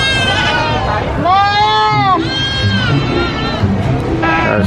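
Sheep and goats, including lambs and brown goats, bleat in a loud, wavering series of cries, with people talking over the animal calls throughout.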